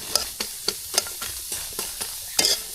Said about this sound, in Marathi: आता कांदा तळसायचा आधी